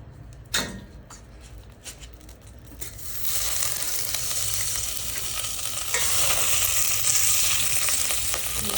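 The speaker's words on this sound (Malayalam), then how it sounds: "ഒരു സ്റ്റീൽ ചരുവം വെച്ചതിന് ശേഷം അതിലേക്ക് കുറച്ച് ബട്ടർ ചേർക്കുകയാണ്" Butter melting in a steel pot for ada pradhaman, starting with a few clinks and scrapes of a utensil against the metal, then breaking into a steady loud sizzle that grows fuller and stays continuous near the pot.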